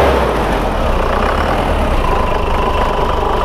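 Big SUV diesel engine running in a vehicle shop, a steady, loud mechanical drone with low rumble held for several seconds without a clear rev swell, no talk over it.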